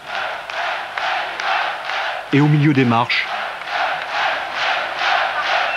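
A crowd at a political rally claps in a steady rhythmic cadence, loud and continuous, while someone speaks briefly over it in the middle.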